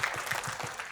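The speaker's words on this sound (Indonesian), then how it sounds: "Tepuk tangan." An audience at a corporate 20th-anniversary event bursts into applause, a short burst of quiet, close-packed clapping.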